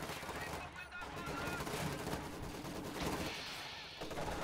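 Dense Company of Heroes 2 battle noise with rattling machine-gun fire and mortar blasts piled into a continuous loud roar, with no clear pauses.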